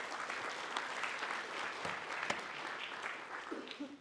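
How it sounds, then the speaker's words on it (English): Steady applause from a lecture audience at a university computing course, a full continuous clatter of many hands clapping at moderate distance throughout, tapering slightly at the end. "Round of applause for her as well."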